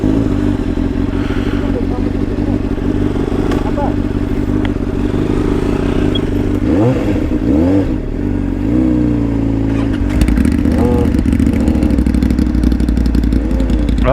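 A Ducati Monster motorcycle engine runs close by with a steady loud drone, its pitch sweeping up and down in several revs, with voices talking over it.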